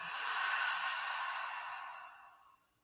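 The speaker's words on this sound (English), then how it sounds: "Let that next breath come in a little deeper. Exhale, let it out." A long, deep exhale during yoga breathing, a soft breathy rush up close that swells then slowly fades out over a few seconds.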